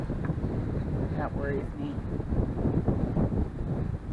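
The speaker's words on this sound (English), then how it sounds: "Super windy, super windy." Strong wind roars and buffets the microphone in a constant gusty rush, with a person speaking briefly underneath.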